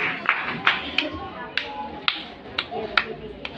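Church congregation clapping in praise of Jesus during a sermon, a series of sharp, fairly spaced claps heard close over a murmur of voices and room noise.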